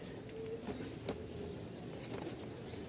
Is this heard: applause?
no